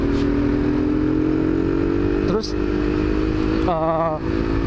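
A noisy Honda 250RR motorcycle engine runs steadily and loudly nearby with a brief rev toward the end, while someone talks over it.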